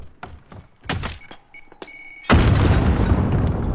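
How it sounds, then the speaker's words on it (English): Explosions in a Call of Duty match during a tournament: several sharp thuds and booms early on, then a sustained loud roaring blast that fills the rest of the clip. "See a lot of the explosions coming in early match."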